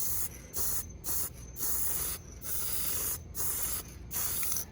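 An RC car body gets spray paint in light coats, with short hissing bursts from the can, about six of them separated by brief gaps, close and fairly quiet.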